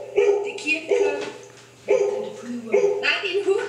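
A dog barks in short repeated bursts, fairly close and loud, with a steady hum underneath and a few pauses between volleys.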